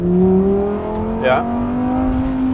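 Lamborghini Huracan V10 engine holding a steady, rising hum from inside the cabin over a rough road, with a brief rev flare partway through and a short spoken word.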